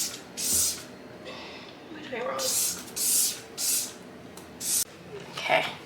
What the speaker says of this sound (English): I'm going to spray some exit mold